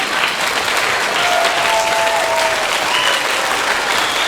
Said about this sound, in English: Come on, clap for yourselves.